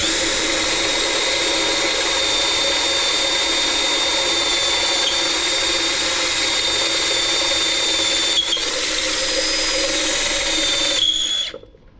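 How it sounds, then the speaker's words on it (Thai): A small electric drill fitted with a size-eight bit bores a pilot hole and then enlarges it while a digital TV antenna is being installed, giving a steady loud whine that runs throughout and cuts off near the end. "พอเราได้สว่านเล็กนะครับ ดอกหนึ่งถ้าแปดเจาะนำร่องแล้ว ก็มาคว้านร่อง นะครับคว้านให้รูใหญ่"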